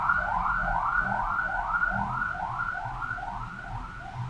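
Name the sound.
ambulance siren passing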